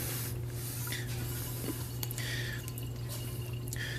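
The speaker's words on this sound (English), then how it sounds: "Next thing we're going to do is go ahead and fill each of our bottles with some of this solution." Sanitizing solution trickles and splashes into beer bottles nearby, a quiet run of drips and short sprays over a steady low hum.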